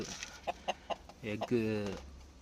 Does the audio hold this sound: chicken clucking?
yes